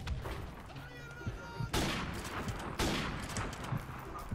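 Gunfire in the shooter game Modern Warfare Remastered, with two sharp loud bursts standing out over continuous rattling shots and game noise.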